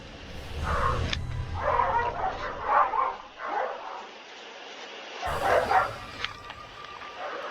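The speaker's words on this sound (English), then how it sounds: "My dog has no respect. I told her I'm making a video. Now she yells." A pet dog indoors barks and yelps in a rapid run of sharp, high cries, then whimpers, breaks off and yelps again, loud and close.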